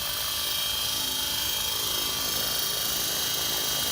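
An ALIGN 450L RC helicopter in flight produces a steady, loud, high-pitched rotor and motor whine that holds constant throughout, close by, with no talking.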